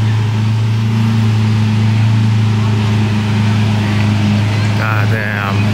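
A Lamborghini Aventador rumbles at low idle as it pulls up, a steady deep engine drone held throughout, loud and close, with people talking over it.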